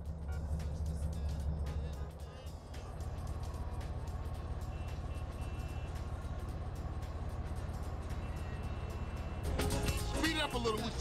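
A car driving in Grand Theft Auto: The Trilogy – San Andreas, during a vehicle shootout mission: a steady engine and road drone runs throughout at moderate level, with sharp clicks and bursts scattered on top and a brighter, noisier stretch near the end.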